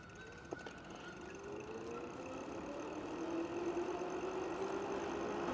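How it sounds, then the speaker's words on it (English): A 500 watt geared hub motor drives an e-bike uphill on throttle alone, giving a faint, steady electric whine that slowly rises in pitch over wind and road noise. "This bike has a 500 watt nominal geared hub drive motor."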